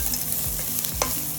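Garam masala spices fried in a pan and stirred with a spoon, a dense steady sizzle with quick scraping strokes, close and brief, no talk.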